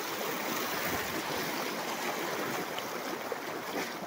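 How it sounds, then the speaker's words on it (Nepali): Floodwater from the swollen Kankai river in Jhapa, after heavy rain, pours into a house as a loud, steady, close rushing flow with no break and no voices. "यहाँ घरभित्र पानी कसरी पर्दैछ"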